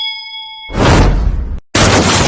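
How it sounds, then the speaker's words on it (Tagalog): A single bell rings briefly as a clear, sustained ding, then cuts into a loud broadband rushing noise that breaks off and resumes. "Bell."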